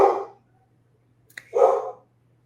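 A dog in a home gives two close, sharp barks separated by a brief pause, with a faint click between them and a low steady hum underneath.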